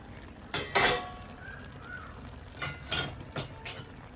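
A cooking pot lid lifted off a pot of drumsticks simmering in curry, heard as a few sharp metallic clinks and scrapes in two bursts, close and fairly loud, with no talking.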